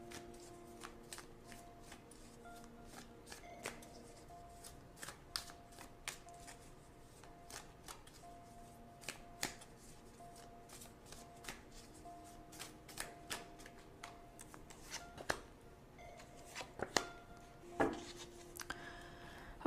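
Tarot cards shuffled by hand, a quiet run of soft riffling and crisp slapping clicks arriving in irregular bursts, close up with no voices.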